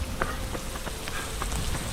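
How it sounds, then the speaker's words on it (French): Rain falls steadily during an outdoor run, a continuous close hiss with scattered sharper drops and taps and no voices. "Un petit entraînement sous la pluie,"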